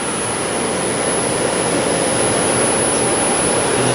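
Steady, loud whooshing hum of the active cooling fan on a Renault Zoe electric car while it charges, continuous and unchanging with a thin high whine on top.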